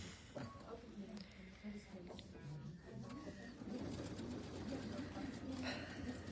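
Domestic sewing machine stitching quilt patches, a fast continuous mechanical whir that shifts pitch as it runs, close by, with people talking over it.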